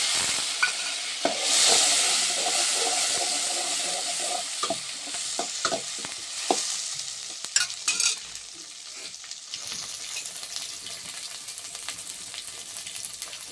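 Green chillies fry in a hot pan for a chana dal, a steady loud sizzle and hiss broken by repeated scraping and clattering strokes of a spoon stirring them, close up and with no talk.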